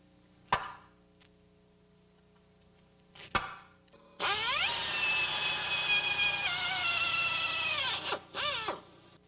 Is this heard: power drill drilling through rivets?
yes